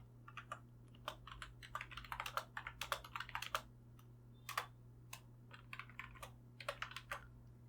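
Typing code into a program file on a computer keyboard, steady bursts of quick close key clicks with brief pauses, alone over a low electrical hum.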